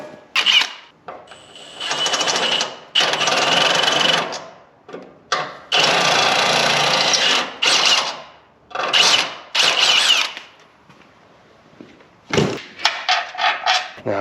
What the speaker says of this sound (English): So I gotta drill 3 of these.